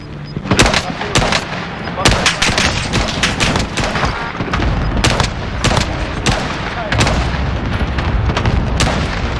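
Call of Duty gunfire, including an M1 Garand, cracks out in loud, rapid bursts and single shots throughout, with booming impacts between them in a dense firefight.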